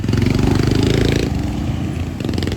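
A freshly rebored motorcycle engine running steadily during break-in, a loud continuous mid-pitched drone with slight variation in tone and a faint rise near the end, no speech over it.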